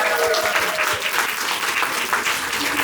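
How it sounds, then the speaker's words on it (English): A dense round of clapping fills a room at a local puzzle competition prize-giving, steady and fairly close, with no voices rising above it. "Give yourselves another round of applause"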